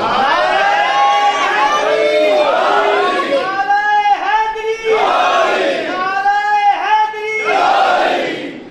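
A large crowd at a religious gathering chants a slogan for Mola Ali in loud, repeated unison bursts of raised voices, a steady rhythmic roar rising and falling over about nine seconds.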